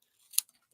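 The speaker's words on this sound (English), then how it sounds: "Fix my tails because I want to get my tails cut" Scissors make one quick, crisp snip as they trim ribbon tails during a card-crafting project. The cut is close and isolated, with no talk over it.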